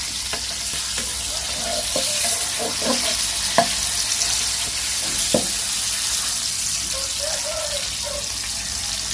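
Salted mackerel frying in a pan gives a steady, even sizzle throughout, with a few brief clicks and scrapes on top and no one talking.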